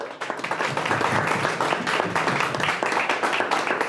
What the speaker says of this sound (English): give them a round of applause for their great work